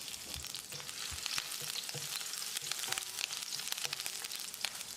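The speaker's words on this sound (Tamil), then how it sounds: "2 பச்சை மிளகாயை பொடியாக நறுக்கியிருக்கேன். இதை போட்டு ஒரு 10 செகண்ட் பிரட்டி விட்டுடலாம்." Steady crackling sizzle of chopped green chillies frying in hot oil, close and continuous, with occasional stirring scrapes and no voices.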